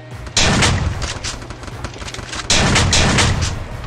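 Loud bursts of rapid gunfire from a shooting video game, two sustained volleys of closely spaced booming shots, the second starting after a brief lull.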